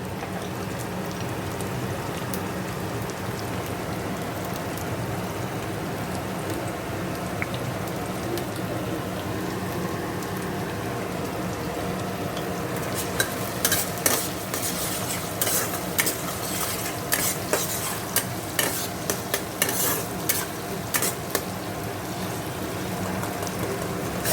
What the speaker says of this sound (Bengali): নুন হলুদ দিয়ে একটু ভেজে নেব।